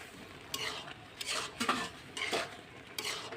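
A metal lid is lifted off a kadai set on a lit gas stove while bottle gourd porridge is being cooked, giving a few separate clattering scrapes of metal about a second apart, close and moderately loud.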